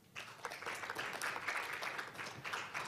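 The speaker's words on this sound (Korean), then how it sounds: "열정적인 발표를 해주신 김찬호 의장님께 다시 한번 큰 박수 부탁드립니다" Forum audience at a youth peace and sustainable development session claps for the presenter, a fairly faint but steady patter of applause lasting a few seconds.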